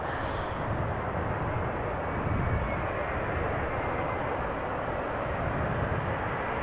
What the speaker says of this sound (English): Embraer 175 arriving from Bristol. KLM flight 1076.